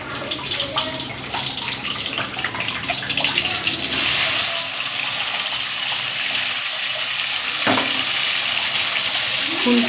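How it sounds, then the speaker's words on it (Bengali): Sliced bitter gourd drops into a hot wok of oil with a loud, steady hiss of frying that swells partway through, close up and with no talk. "তো কড়াইতে উচ্ছে ঢালছে"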